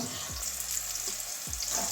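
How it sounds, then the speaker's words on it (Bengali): Broad beans frying in hot oil in a Bengali home kitchen give off a steady, close hissing sizzle, with a few soft low knocks of stirring underneath. "এই যে সিমগুলো আমার ভাজা হয়ে গেছে এবারে তুলে নিচ্ছি একদম লাল লাল করে ভেজে নিয়েছি"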